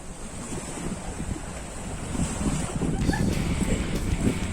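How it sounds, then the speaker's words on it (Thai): Strong monsoon wind at sea around a boat, roaring and buffeting against the microphone, with the wash of waves building louder toward the end and faint voices in the background. "ฝ่ามรสุมลมครับ"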